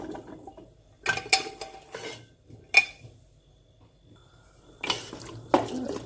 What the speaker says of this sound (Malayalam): ഞാൻ വെള്ളത്തോട് കൂടി തന്നെയാണ് ഒഴിക്കുന്നത്.